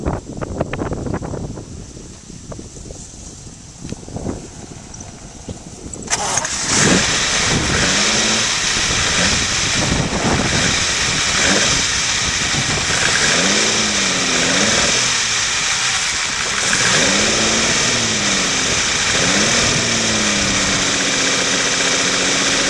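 A classic Lamborghini Islero V12 fed by Weber carburetors cranks with rough irregular bursts, then catches and settles into a loud, close, steady idle with repeated throttle blips rising and falling over wind noise.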